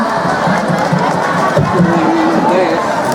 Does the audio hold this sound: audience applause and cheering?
yes